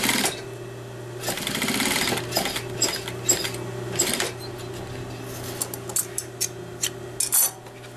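A sewing machine stitches a new zipper into a pair of pants, its rapid motor-driven needle chatter running in steady bursts with short pauses, close and fairly loud, with no one speaking.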